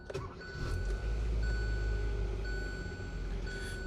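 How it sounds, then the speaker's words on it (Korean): A Hyundai Avante AD, fresh from a spark plug replacement, starts and settles into a steady low idle, while a dashboard chime beeps repeatedly over the engine hum. "실내로 돌아와서 시동을 걸고"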